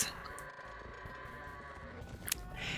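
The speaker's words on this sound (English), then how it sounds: "I would spend my early days herding goats." Goats bleat in the video game Twilight Princess, a wavering bleat over a low ambient bed, followed by a short sharp click and rising noise near the end, with no talking.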